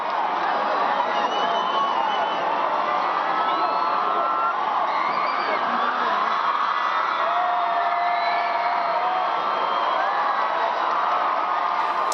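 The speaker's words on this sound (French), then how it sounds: "sous les acclamations des fidèles." Faithful crowd outside Bogota cathedral cheering as the pope appears on the cardinal's palace balcony, a continuous distant roar of shouts and whistles sustained throughout.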